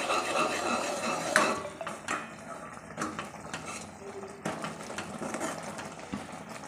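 A spoon stirs and pushes dried chickpea-leaf greens, coated in flour, around a pot of boiling water, making soft scraping and scattered metallic clinks that sound close and fairly quiet.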